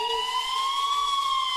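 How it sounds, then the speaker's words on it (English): Police siren wailing in a steady, slowly falling tone, clear and fairly loud with nothing else around it. "آره آژیر داره میاد."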